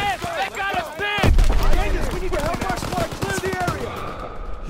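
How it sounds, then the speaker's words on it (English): Machine-gun fire rattles in a World War II battle in Call of Duty WWII: bursts of rapid shots with a heavy boom near the start, mixed with shouting voices and battle noise throughout. "Gunfire! We must be near our guys."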